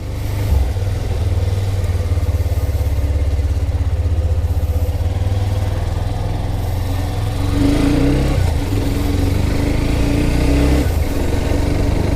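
A Hero Xtreme 125R motorcycle engine buzzing steadily while riding on the road, its pitch changing as gears shift up, loud and close with wind noise throughout.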